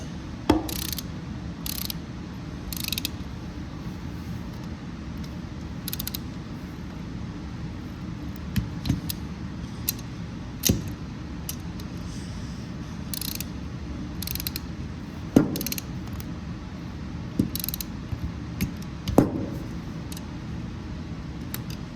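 A torque wrench ratcheting while tightening blower housing bolts on a Briggs 130G32 engine, with repeated close clicks and occasional sharper snaps against quiet room noise, without talking.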